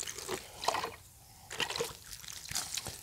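Water trickles and splashes from a pour onto wild mushrooms growing under tree bark in a November forest, coming in short uneven bursts with brief pauses between, close and fairly quiet.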